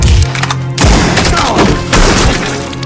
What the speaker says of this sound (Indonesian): Sekali Toby malah ditembak mati oleh Kimber